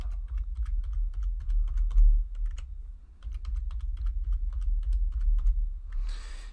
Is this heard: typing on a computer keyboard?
yes